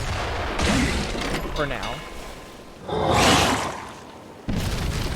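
A video game salvo of gunfire and explosions: booming bursts swell up in a couple of heavy waves, with rumbling blasts beneath a voice speaking briefly.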